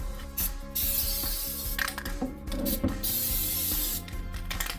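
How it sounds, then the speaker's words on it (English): White lithium grease sprayed from an aerosol can onto metal dresser drawer slides, in several loud hissing bursts with brief gaps and faint mechanical clicks between them. "we're going to put white lithium grease on the drawer slides"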